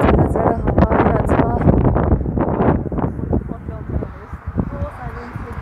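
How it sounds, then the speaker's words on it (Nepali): Strong wind in the open streets of Berlin roars and buffets the microphone continuously, loud and gusty, with a voice talking underneath that fades out near the end. "अलिकति ज्यादा ज्यादा हावा आइरहेको छ"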